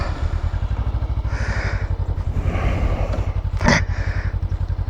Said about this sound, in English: Yep, still got the little Suzuki Inazuma.